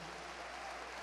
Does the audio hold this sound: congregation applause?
yes